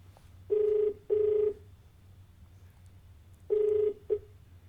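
A telephone rings for a call-in caller on a TV question show: two ring bursts in quick succession, a pause, then another ring and a short clipped one, clear and close over low hum.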